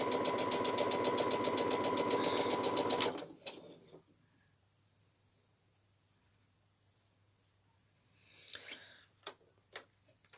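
A sewing machine stitches a seam on a girl's dress in a loud, fast, steady whir for about three seconds, then stops, leaving quiet room tone with a few faint clicks and rustles.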